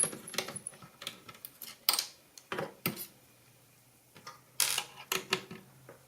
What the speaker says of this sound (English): So just going to take the screws out for the GD-ROM drive.